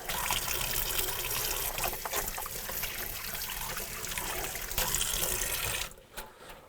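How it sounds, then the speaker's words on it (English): Water runs steadily from a tap during handwashing in a home kitchen, a constant splashing hiss that cuts off abruptly near the end, leaving a few faint drips and handling noises. "Let me wash my hands"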